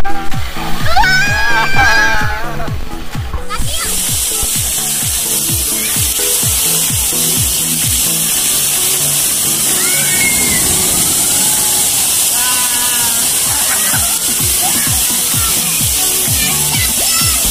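Artificial waterfall at a water park splashing in a loud, continuous hiss after a clattering, rhythmic start, with brief voices and play sounds mixed in.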